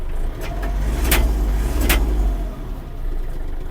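A Kubota GL-300 mini tractor with a cab idles while parked, a loud steady low engine rumble close by, with a couple of brief sharp mechanical clicks partway through and no voices.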